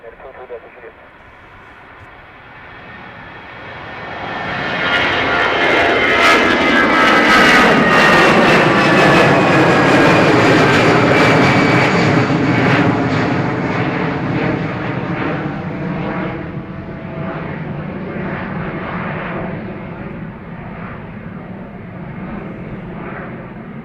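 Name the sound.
airplane jet engines at Dublin Airport runway 28 right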